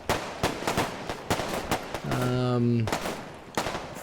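Repeated gunfire and heavy explosive booms from an artillery strike in the military video game Arma 3, sharp impacts spaced irregularly with a sustained tonal rumble in the middle, loud and close.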